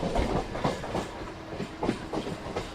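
A train runs along a main line through Dharavi in Mumbai, its wheels beating a steady clickety-clack rhythm over rail joints amid a dense, continuous rumble, moderately loud and unbroken by voices.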